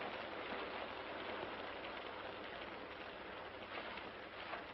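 Steady rain falls outside a barn, a dense continuous patter on surfaces that stays fairly close and even throughout, with no voices.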